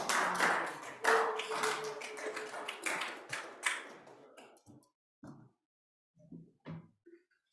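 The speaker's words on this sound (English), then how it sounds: "They'd like to clap." Senators clapping in a state senate chamber, a burst of close, dense applause that thins out into a few scattered claps and taps.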